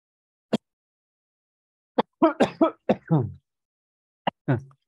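Several short, sharp coughs and throat-clearing bursts, isolated with silent gaps between them, close and fairly loud.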